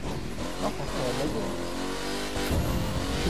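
Game engine sound of a 2020 Ford Mustang Shelby in The Crew 2, revving and accelerating with rising and falling engine tones, heard under someone talking.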